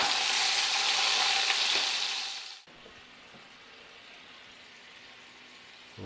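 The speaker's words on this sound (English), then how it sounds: "We'll let that sizzle a little bit," Steady, bright sizzling of spatchcocked chicken frying in a pan for a few seconds, then it drops abruptly to a much quieter low crackle.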